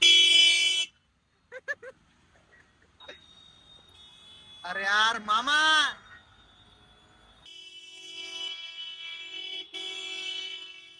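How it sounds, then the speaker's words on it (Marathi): A car horn honks loudly several times, short toots then longer blasts, with people talking over a steady background hum. "जो भी हॉर्न नहीं बजाएगा"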